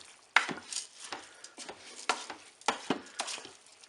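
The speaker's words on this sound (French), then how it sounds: "Je mélange également." Rice being stirred for paella in a Cookeo pot, a series of close scraping, clinking strokes in an irregular rhythm, each sharp onset fading quickly, with no talk.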